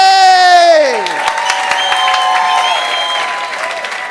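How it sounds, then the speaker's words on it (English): Comedy club crowd at Komedia Brighton breaking into loud applause and cheering as a comedian takes the stage, with sustained clapping, whoops and shouts, while a held tonal sound slides downward at the start. "please start the applause"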